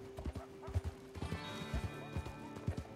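Horse hooves clip-clop in the Red Dead Online video game, a steady galloping rhythm of soft thuds with a neigh, under a faint hum and light talk.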